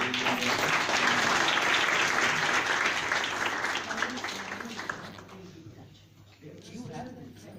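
Audience applause at a public talk on policing and rape survivors, a dense, loud wash of clapping that fades over the last few seconds as it thins out, with faint voices underneath.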